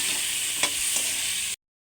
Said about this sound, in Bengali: আলুর মধ্যে অল্প হলুদের গুঁড়ো আর অল্প লবণ দিয়ে দেব, দিয়ে আরেকটু ভালো করে ভেজে নেব।